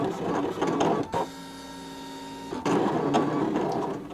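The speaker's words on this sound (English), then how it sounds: "Now we're going to let this cut on its own because there's so much information it's going to take a long time to cut out" A Brother Scan N Cut cutting machine working through a design, with mechanical whirring and shuffling that gives way to a steady tonal motor whine in the middle before the busier movement resumes; no one speaks.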